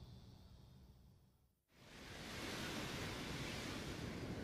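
After a brief quiet moment, a steady, loud wash of sea waves rushes in and continues, broad and constant like surf breaking nearby.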